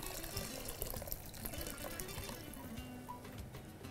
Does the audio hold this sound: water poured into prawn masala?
yes